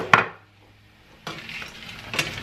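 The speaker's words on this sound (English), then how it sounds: "Give that a stir." Frozen peas and carrots stirred in a pan, with a sharp utensil clank against the pan at the start, a quiet pause, then scraping, rattling stirring and another clink near the end.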